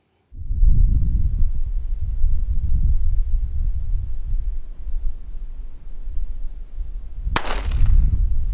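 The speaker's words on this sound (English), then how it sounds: "We're getting ready to shoot at these 10-pound blocks of clay with a 380 using a 102 grain hollow point by Remington" A single sharp gunshot from a .380 pistol firing a Remington Golden Saber 102-grain hollow point at clay blocks cracks late in the clip, after a stretch of low rumbling outdoor background noise.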